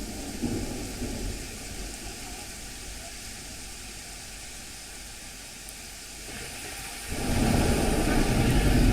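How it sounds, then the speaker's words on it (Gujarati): Monsoon rain falls in Morbi, Gujarat, as a steady broadband hiss with a low rumble beneath it. The downpour grows noticeably louder and fuller toward the end. "કે જ્યાં ધીમી ધારે વરસાદ પડી રહ્યો છે"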